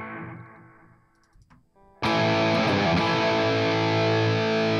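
Electric guitar run through a Line 6 HX Stomp with a cab impulse response, a quieter clean-ish strummed passage fading out, then a loud, dense distorted chord crashing in and sustaining.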